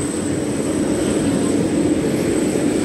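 A China Airlines Boeing 747 airliner taxis at Taoyuan International Airport, heard from the observation deck as a steady, loud engine roar and rumble with a faint high whine, continuous and unchanging, with no voices.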